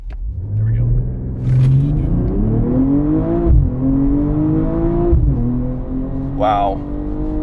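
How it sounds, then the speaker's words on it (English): A 2022 BMW M240i launches hard with launch control, its engine droning and rising in pitch through several gear changes with short dips between shifts, heard from inside the cabin with a voice speaking over it. "we're gonna do another launch control here"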